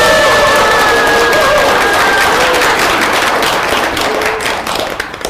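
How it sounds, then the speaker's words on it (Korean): A temple audience gives a loud, dense round of clapping that holds steady and then begins to thin out toward the end, close and filling the room. "감사하게 박수 한번 드릴까요?"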